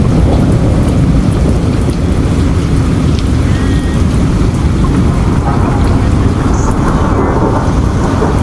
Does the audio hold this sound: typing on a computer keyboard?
no